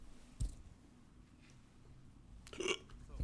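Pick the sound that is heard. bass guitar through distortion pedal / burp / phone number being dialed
burp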